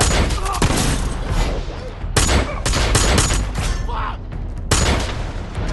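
Loud, dense gunfire rattles through a film shootout as a lone gunman guns down armed robbers, bursts and booming shots overlapping almost continuously with sharp fresh volleys breaking in.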